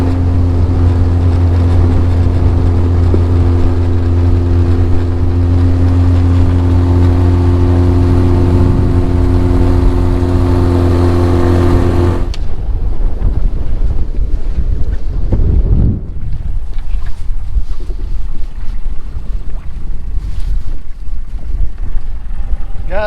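An outboard motorboat pulls out of a marsh area on a very windy day, its steady engine drone buried under loud wind buffeting for about half the time, then the motor drops away, leaving gusting wind and water noise.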